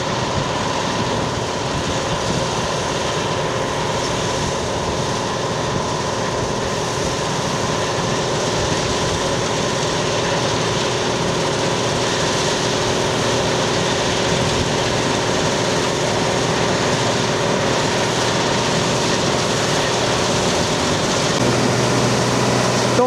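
A Claas Dominator 204 combine harvester working a field alongside a tractor collecting the crop, a steady loud mechanical drone with constant engine hum running the whole time and no voices.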